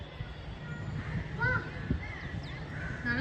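Crows caw a few times, fairly close but not loud, mixed in with people talking and a low background murmur.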